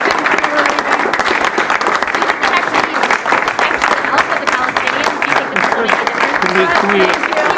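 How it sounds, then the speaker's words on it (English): Loud, sustained clapping from a crowd fills a press event as the press are ushered out, dense and continuous throughout, with voices talking over it. "They clap the press out of the room."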